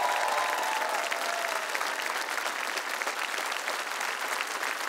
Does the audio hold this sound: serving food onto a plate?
no